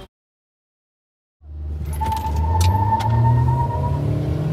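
Mahindra XUV700 and Skoda Kushaq cars pulling away in a roadside drag race, engines rising from silence into a steady, loud drone that builds and holds with faint higher whines over it.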